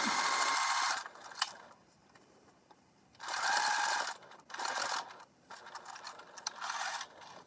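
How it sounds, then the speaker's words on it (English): A sewing machine stitches a bag closed at the bottom in several quick bursts of whirring, clattering needle action, separated by short pauses, close and fairly loud with no talking. "we are going to sew this closed at the bottom"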